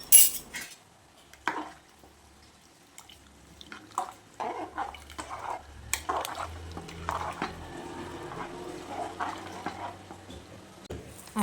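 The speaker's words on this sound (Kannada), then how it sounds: "2 table spoon pulao masala powder ಹಾಕಿ ಮಿಕ್ಸ್ ಮಾಡಿಕೊಳ್ಳುವ." Spoon stirring pulao masala powder into vegetable pulao in a pot, with scattered scraping clinks and soft wet squishes, close and fairly quiet, no talking.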